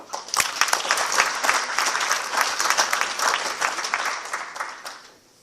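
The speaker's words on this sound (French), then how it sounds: "On peut l'applaudir." A conference audience applauds as a guest arrives at a debate, a dense and lively burst of clapping from many hands that builds quickly, holds steady for several seconds and then fades out.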